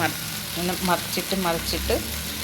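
Vallicheera greens frying in a pan and being stirred and tossed, a steady close sizzle with scraping under a voice speaking throughout.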